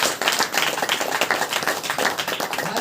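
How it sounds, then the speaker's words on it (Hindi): A church congregation claps hands together at a Hindi-language Saturday power meeting, a dense, steady wash of many hands close by and loud, with no talk over it. "एक बार ताली बजाकर परमेश्वर"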